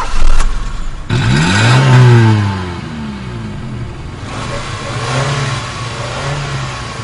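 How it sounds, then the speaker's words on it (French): A Toyota AE86 car engine in the Initial D anime starts up and revs with a dull, muffled tone, rising in pitch then settling into a steady idle, loud and close with no talk over it. "démarre le moteur, qu'on l'entende un peu"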